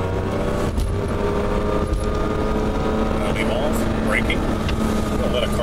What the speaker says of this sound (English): And we are clear going out on the track and accelerate.